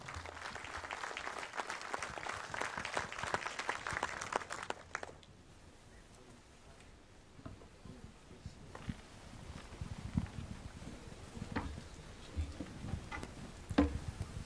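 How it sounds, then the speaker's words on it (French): An audience at the Martinique agriculture assembly applauds the arrival of the President of the Executive, Alfred Marie-Jeanne: loud, dense clapping for about five seconds, then thinning to scattered claps and a murmuring hall. "Vous applaudissez bien fort, s'il vous plaît"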